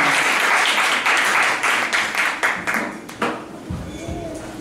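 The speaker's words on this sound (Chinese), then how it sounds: "我们先用掌声谢谢两位" An audience applauds to thank two speakers at a public health forum: steady, dense clapping for about three seconds that thins out and fades, with some voices mixed in.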